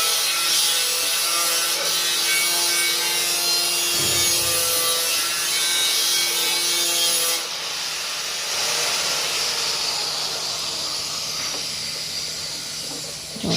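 Lapsi, a traditional Gujarati cracked-wheat sweet, stirred in a pot with a wooden rolling pin, giving a steady scraping, rubbing texture with a soft hiss, close and continuous for the whole stretch with no talking.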